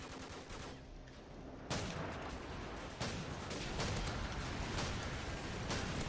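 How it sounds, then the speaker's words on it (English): Gunfire in the Call of Duty 4 video game, a steady dense rattle of shots with sharper bursts landing every second or so, loud and close with no talking. "Oh, this guy's shooting at me."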